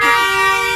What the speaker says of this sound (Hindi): हमारे पीछे से इतनी हॉर्न की आवाज आ रही थी